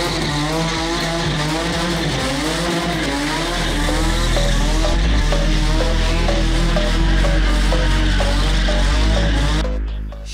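Race cars in a Karachi motor sport event, engines revving and accelerating with skidding tyres, a loud continuous roar of rising and falling pitch that holds throughout and cuts off at the end.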